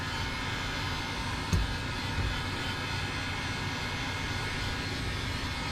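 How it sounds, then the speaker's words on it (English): A heat gun runs over frayed leather stitching, giving a steady close roar of blowing air with a soft knock partway through and no voices. "The heat gun's nice. Kind of singes any of the frayed stitching."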